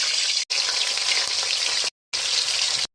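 Pieces of rui fish sizzle loudly in hot oil in a pan, a dense, steady crackling hiss broken by two short silent gaps, with no talking.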